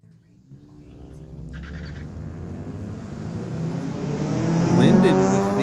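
A 1998 Acura and a 1997 Chevy launch side by side at a street-legal drag strip, engines swelling from a low rumble to a loud rising roar as the revs climb.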